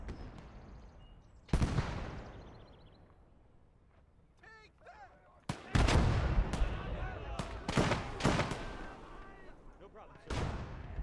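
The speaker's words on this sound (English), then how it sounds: "we're gonna throw some grenades on that" Grenades and gunfire burst in the WWII real-time strategy game Gates of Hell: Ostfront, loud sharp blasts arriving irregularly, clustered in a rapid volley near the end, with faint chirping ambience between them.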